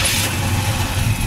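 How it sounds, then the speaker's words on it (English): A 1965 Chevrolet Chevelle Malibu convertible's 283 V8, fitted with a four-barrel carburetor and headers, runs loud and close in a steady, rumbling idle with no talk over it. "The engine sounds good, runs well."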